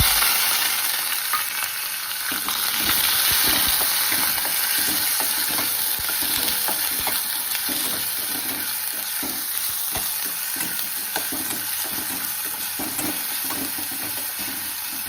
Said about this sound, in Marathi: आता कांद्यानं हा छान परतून घेते.